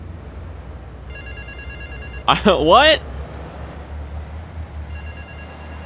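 A telephone in Grand Theft Auto III rings in two short electronic bursts, separated by a brief loud spoken exclamation, over a low game background hum.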